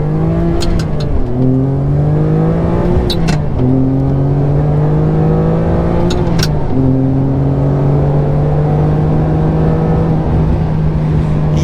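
A Ferrari 575, fresh from a DIY timing belt service, accelerates hard on a Texas road, its engine note climbing loudly and close through three quick upshifts before settling into a steady high drone.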